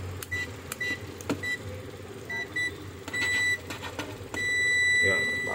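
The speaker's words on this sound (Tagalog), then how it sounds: "Yan, buzzer na siya." A multimeter set to continuity buzzer mode beeps while probing the T-Con board of an LG 32-inch TV. Short high tones come in bursts, then one long steady tone near the end, with talking throughout.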